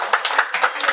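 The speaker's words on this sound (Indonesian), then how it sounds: "Tepuk tangan dong untuk Om Gondrong dan Bang Ade." An audience claps in quick, uneven bursts at a youth community talk event in Dumai, a brief rhythmic patter of many hands close by with no voices over it.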